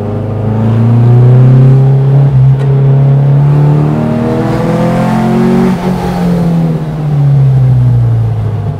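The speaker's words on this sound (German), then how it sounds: "Wir hören hier wirklich das Ansauggeräusch der Weber-Vergaser." A 1964 Porsche 356 revs hard while driving, its Weber carburettor intake and exhaust giving a loud, close, throaty roar that climbs and falls through gear changes with no talk over it.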